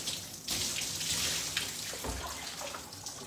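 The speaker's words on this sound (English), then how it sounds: "So let's rinse the hair. Okay, take off the cap and just rinse." Water runs steadily over natural hair as it is rinsed after the cap comes off, a continuous close splashing wash with small shifts in flow, no talking.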